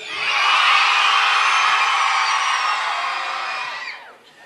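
A concert crowd at the Transbordeur screams, whoops and cheers in one loud, sustained roar that holds steady for about four seconds, then drops away abruptly.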